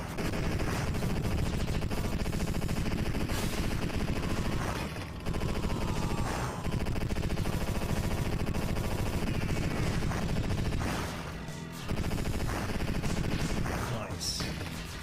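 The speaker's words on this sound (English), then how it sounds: "This is a more powerful gun." Shots from a more powerful gun in a video game, sustained rapid fire running for long stretches with brief pauses, set against busy game sound and occasional talk.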